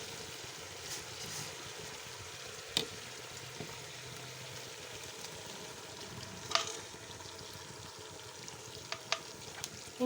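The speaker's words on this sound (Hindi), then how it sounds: "अब मैं इसमें डाल दूँगी 3 अदद बड़े टमाटरों का पेस्ट" Goat head curry sizzles steadily in a pan after large tomatoes are added as paste, a constant close frying hiss broken by a few sharp clicks of stirring.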